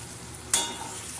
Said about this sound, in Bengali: এবার বেশ কিছুক্ষণ ধরে কষাতে হবে পেঁয়াজ আর মশলার সাথে